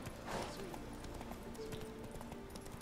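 Hooves of Roach, the horse ridden in The Witcher 3: Hearts of Stone, clip-clop at a steady trotting rhythm, fairly faint, under soft game ambience.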